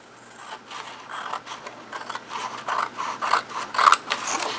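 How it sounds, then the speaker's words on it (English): Scissors cutting out a paper envelope for a journal craft: a close, quiet run of rhythmic snips and crisp paper scrapes, growing slightly louder toward the end. "Now we're going to cut this one out."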